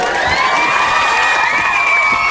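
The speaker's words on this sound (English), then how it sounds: "do I hear audience applause?" A crowd cheers and whoops at an awards-style show, a dense, loud wash of shouting voices sustained for a couple of seconds with little distinct clapping.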